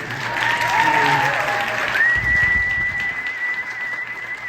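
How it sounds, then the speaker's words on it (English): An opening-night theater crowd at a local School of Rock production applauds loudly and continuously, with a long, shrill whistle rising above the clapping and scattered cheering voices. "give yourselves a round of applause for being out supporting live local theater"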